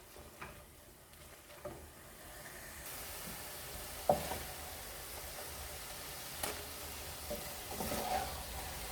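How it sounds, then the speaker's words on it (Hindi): Fresh spinach tipped into mutton frying in a pan for milky palak gosht, giving a steady broad sizzle that swells around the fourth second, with scattered stirring clatters and sharp pops near and alone. "तो चलिए अब इसको मैं मटन में इसको पालक को ऐड करती हूँ।"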